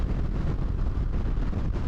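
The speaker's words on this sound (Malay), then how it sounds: "angin dia kuat juga tau" Steady roaring wind buffeting a Shoei NXR2 helmet at speed on a Kawasaki Z650 motorcycle, a dense continuous low rumble with no letup and no voices.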